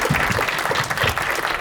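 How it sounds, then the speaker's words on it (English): An audience applauds at a women's health panel event, loud close dense clapping filling a short burst with some crowd murmur beneath. "Give a round of applause"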